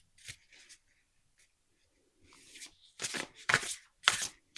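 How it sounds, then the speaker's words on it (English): Tarot cards are shuffled by hand, with soft papery riffles and slides in separate bursts that get louder and crisper toward the end, close up in a quiet room. "It does almost seem magical, and I'm shuffling"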